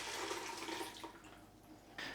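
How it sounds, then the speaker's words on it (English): Water poured into a pressure cooker pot, about a liter going in as a close, splashy gush that tapers to a lighter trickle before a brief renewed splash at the end. "I'm adding 4 cups worth, or 1 liter of water"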